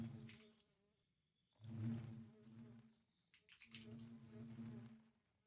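Buzzing bees in Minecraft with the ATM10 modpack, three faint droning bursts with short gaps between them, sounding like insects hovering close by.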